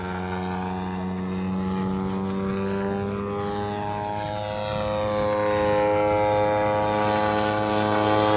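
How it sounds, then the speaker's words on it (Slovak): A flying model replica of a World War I English fighter plane drones overhead, its engine giving a steady buzzing whine with strong harmonics that slowly shifts in pitch and grows slightly louder as it passes. "Toto je model z anglické stíhačky z první světové války"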